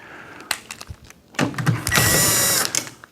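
A screw gun backs screws out of the front plate of an ADP coil, with short whirring bursts followed by one longer sustained whine, close and loud.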